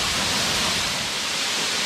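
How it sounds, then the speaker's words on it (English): Bethel Spring waterfall in the Bethel Springs Nature Preserve near Paint Rock, Alabama, gives a steady, close, full-bodied rush of falling water with no breaks for the whole stretch. "The Bethel Spring waterfall."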